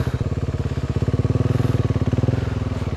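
A motorcycle engine chugs at a steady, close, low idle with rapid rhythmic pulses as the bike is backed up over dirt ground at a riverside campsite.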